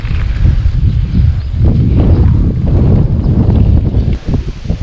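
Strong headwind while mountain biking along field paths: a loud, continuous low rumble of wind battering the microphone, surging and easing throughout.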